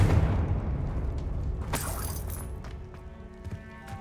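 In Hogwarts Legacy, a Confringo blasting spell goes off as a loud, close booming explosion with a shattering burst that rumbles and then fades, followed by scattered debris clatter.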